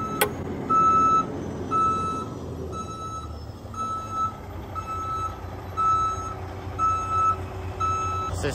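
A truck's reversing alarm beeps in a steady, evenly spaced series over a low diesel engine rumble while a lowboy trailer is hooked up outdoors, the beeps sharp and fairly close.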